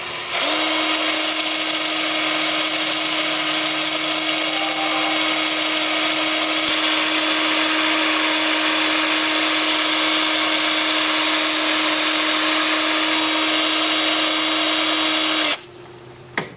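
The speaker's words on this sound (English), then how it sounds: "with my 2-inch sanding disc and the lathe spinning at about 390 in reverse." A steady high-pitched whine of a 2-inch sanding disc against wood spinning on a lathe at about 390 rpm in reverse, loud and continuous, cutting off abruptly near the end.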